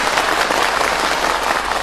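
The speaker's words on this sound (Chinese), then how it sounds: "赶快掌声有请黄慧" A theatre audience at a Yue opera gala breaks into warm, sustained applause welcoming performer Huang Hui, a dense, even wall of clapping with no talk over it.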